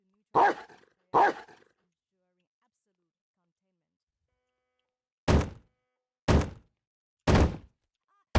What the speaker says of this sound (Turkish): Şimdi küt küt küt bak köpek var orada